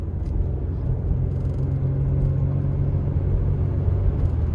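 Low, continuous engine and road rumble from inside an old car as it drives with a slipping transmission, a steady droning hum with faint rattles and no talk.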